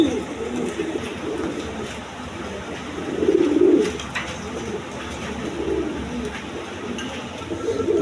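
Red Indian Bombay pigeons in a breeding loft coo in low, rolling bursts, one louder call midway over a steady background hum, and no voices are heard.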